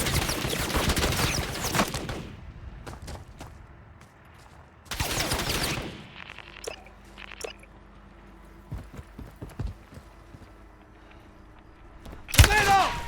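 Gunfire in Call of Duty: Warzone comes in short, loud bursts of rapid shots, separated by quieter stretches that are broken by scattered single cracks and softer game noises.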